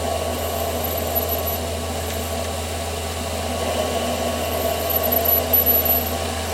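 A lathe facing 4 mm off the end of a part for a ball turning tool gives a steady mechanical hum with a constant low drone and faint cutting scrape throughout, with no talk.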